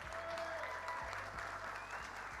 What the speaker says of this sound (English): Can we also do a big round of applause to this amazing moderator, Cori Peña?